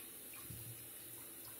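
A bathroom tap runs steadily for rinsing after a wet shave, a faint, continuous hiss of water with a couple of soft splashes and small drips.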